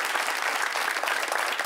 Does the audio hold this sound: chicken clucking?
no